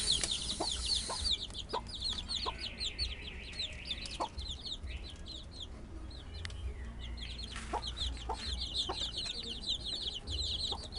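A Japanese silkie bantam hen with her chicks: repeated soft clucks under a busy layer of high, rapid peeping chicks, fairly close and continuous throughout.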